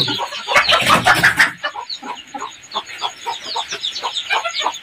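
A mother hen clucks near her chicks during chick care, a burst of loud rustling and handling noise first, then a string of short, evenly spaced clucks and peeps close by.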